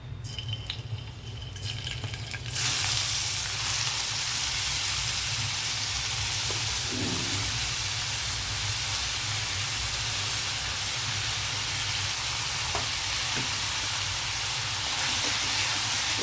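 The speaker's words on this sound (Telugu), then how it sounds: "ఆయిల్ హీట్ అయ్యాక ముందుగా మనం ఆనియన్ ఫ్రై చేసుకుందాం" Onions dropping into hot oil: after about two quiet seconds a loud, steady broadband sizzle takes over and holds close and even to the end, with a few faint clicks and no talking.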